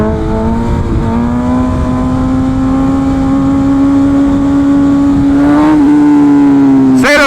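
A BMW S1000RR sport bike engine holds a loud, steady high-revving drone during stunt riding, pitch creeping slowly upward before a brief wobble and a sharp final rev burst.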